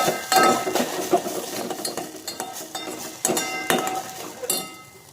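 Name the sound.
stirring egg in a pan for baby egg rice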